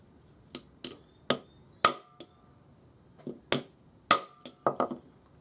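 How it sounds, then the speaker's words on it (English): Hammer strikes on a dainty embossed ring clamped between two steel blocks, about ten sharp metallic smacks of varying force, some with a brief ringing tail, spaced irregularly in a quiet room. "give it a nice little smack with the hammer."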